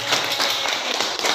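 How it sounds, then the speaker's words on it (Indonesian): Brief burst of applause from students in a classroom, dense, bright clapping from many hands lasting just over a second, with no talking. "Ya, tepuk tangan untuk yang ke SMK."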